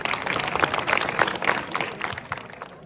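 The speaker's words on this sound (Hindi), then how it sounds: "एक बार स्वागत और अभिनंदन तालियों के साथ।" A crowd claps to welcome guests onto the stage at an Independence Day celebration, a loose, uneven patter of hands that thins toward the end.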